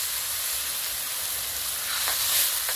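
Dissolved spice paste hits fried onion, garlic, ginger and chili in a hot pan for a cabbage curry, giving a steady, close, loud hissing sizzle throughout.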